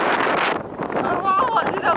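Outdoor wind buffeting a microphone, a steady loud rumbling roar under a person talking throughout.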